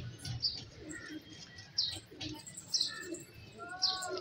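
Soft chirps and low cooing from pigeons come in scattered bursts, fairly faint, with light background rustling and distant murmurs.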